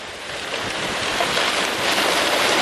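Strong 70 to 80 mph wind gusts from a derecho near Morton, Illinois, a loud continuous roaring rush of wind buffeting the microphone, swelling slightly over the few seconds.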